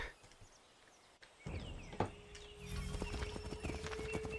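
Horses clip-clop steadily on a road in the Assassin's Creed III video game, joined by a whinny, amid faint birds and ambient outdoor sound, with no speech over the hoofbeats.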